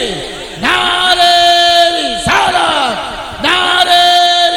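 A large crowd at an Urs religious gathering answers the Nara-e-Takbeer call with loud, massed chanted shouts. Three swelling waves of voices come in a rhythmic call-and-response pattern, each separated by a brief dip.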